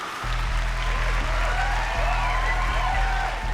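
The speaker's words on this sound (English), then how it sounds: "let's give them a big round of applause" Audience applause for a junior dance group at a competition, steady and fairly loud with crowd noise, running alongside a low steady hum and some voices.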